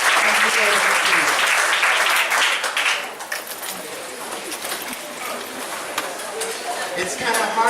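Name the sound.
applause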